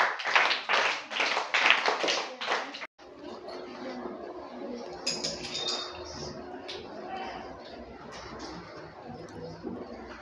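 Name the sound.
clapping for a student named Lashwita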